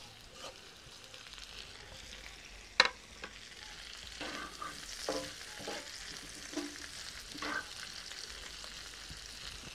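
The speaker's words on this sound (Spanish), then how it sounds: "Ahora vamos a poner el tocino y la cebolla." Bacon and onion fry in a disc pan, a soft continuous sizzle with occasional scraping stirs and one sharp metallic clink, heard close and fairly quiet, with no talking.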